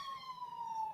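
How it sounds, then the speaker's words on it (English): An emergency siren passing outside, a single steady wailing tone slowly dropping in pitch at moderate distance. "That was a siren."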